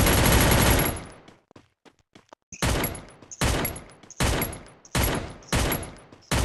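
Gunfire in the Free Fire battle royale game: a loud sustained burst, then scattered faint shots, followed by five evenly spaced heavy bursts.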